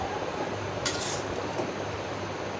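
A utensil stirs shrimp with pumpkin greens in a cooking pot, giving a brief scraping clink near the start over a constant sizzling hiss from the pan.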